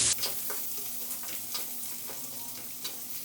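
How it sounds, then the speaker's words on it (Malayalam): Green peas, carrots and beans sauté in a pan for veg pulao, a steady close sizzle with light stirring scrapes and occasional clicks, no voices. "ഗ്രീൻ പീസ് ഇതെല്ലാം കൂടെ ഒന്ന് നന്നായിട്ടൊന്ന് വഴറ്റിയെടുക്കണം"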